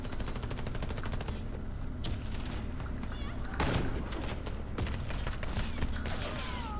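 A VSS rifle fires in Warface, with rapid, evenly spaced shots in a dense burst followed by scattered in-game clatter and effects, while a player talks over the gameplay.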